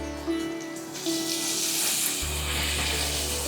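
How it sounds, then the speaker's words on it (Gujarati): Fafda gram-flour batter dropped into overly hot oil, a sudden loud sizzle that jumps up and keeps crackling steadily, with a brief splash of water just before. "અને હવે સીધા જ આપણે એને તેલમાં તળવા માટે નાખી દેવાનું છે"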